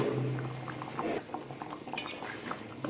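Chicken curry with chopped coriander bubbles softly in a pot, a steady low simmering burble with faint utensil clinks, close and fairly quiet.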